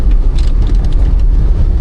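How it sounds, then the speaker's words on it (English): A green car passes on a street in Florence near the church and Piazzale Michelangelo, its steady low engine and tyre rumble filling the short moment at close range with no voices. "Nice, the green car passed again."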